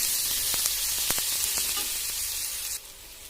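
Spices and chili powder sizzle and crackle steadily in hot oil, with scattered sharp pops over a continuous hiss, close by, and no talking, while cooking a brain masala.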